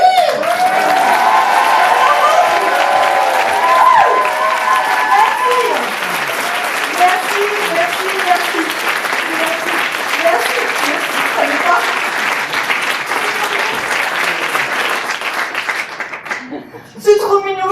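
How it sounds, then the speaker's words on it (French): An audience at a motivational speaking event applauds, with sustained, loud clapping and a voice speaking over it before the applause thins out near the end. "Mesdames et messieurs, combien d'applaudissements pour Léo, s'il vous plaît?"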